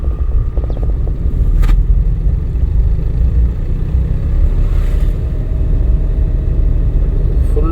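A learner's car engine rumbles steadily during a driving lesson, a continuous mid-range drone that swells slightly as the accelerator is pressed, close and fairly loud with no clear talk over it.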